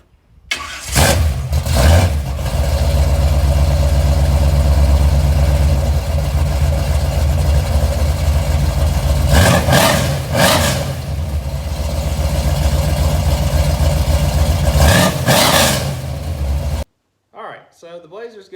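A Chevrolet K5 Blazer with a GM Vortec engine, 350 turbo transmission and 241 transfer case, runs loud and close with a steady idle rumble, occasional revs and clunks, then cuts off near the end.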